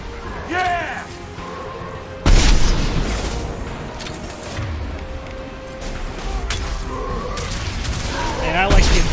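Inferno Grenade going off in Mass Effect 2, a sudden loud boom with a broad crashing burst that decays into crackling combat noise, with chatter around it.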